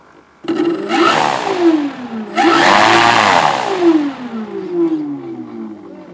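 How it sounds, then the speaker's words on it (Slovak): The engine of a Šavrov Š-2 vintage aircraft is revved up loudly on the ground, rising in two strong surges with a sharp start and a whining sweep before easing back. "A roztoč motor!"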